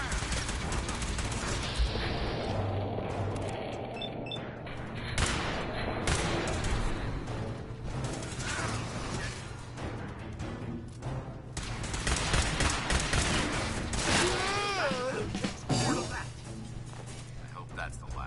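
Sustained gunfire in the video game Fallout 4, with dense overlapping rapid shots and bursts from a busy firefight running throughout, mixed with shouting voices.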